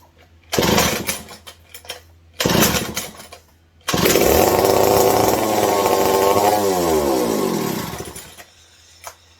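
A McCulloch 740 chainsaw engine sputters in two short bursts, then roars up to a high, sustained rev before cutting off, close and loud.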